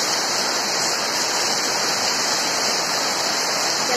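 Heavy rain during a downpour, a dense, loud, unbroken roar of falling water, close by and alone.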